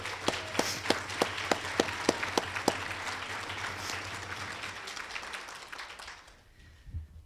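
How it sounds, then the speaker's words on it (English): Conference audience claps together, opening with a few sharp, evenly spaced claps close by before the applause spreads into a softer, scattered patter that gradually dies away to near silence. "So I just want to ask for a quick round of applause for you for that."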